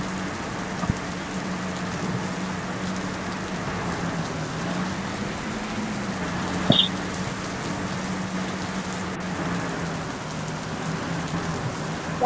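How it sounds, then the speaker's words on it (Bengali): Steady rain falls outdoors on a roadside in a continuous soft hiss, even and moderately loud throughout, with a faint low hum underneath and a brief knock partway through. "বৃষ্টি শুরু হয়ে গেল গাইস।"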